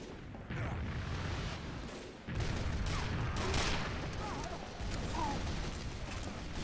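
Gunfire erupts in Team Fortress 2 as a player shoots at a sniper perched above, several loud bursts of shots layered with mechanical clatter and game noise, steady and dense without speech.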